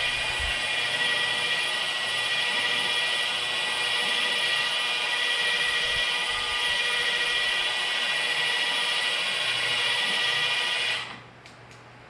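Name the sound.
Milwaukee 2738-20 polisher running at low speed on car hood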